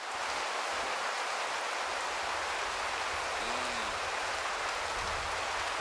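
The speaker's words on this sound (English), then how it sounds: "But they don't hear it because it's raining." Steady rain falling in the hunting game Way of the Hunter 2, a constant hiss of drops on the ground with no break or swell, and a faint low tonal sound briefly rising under it near the middle.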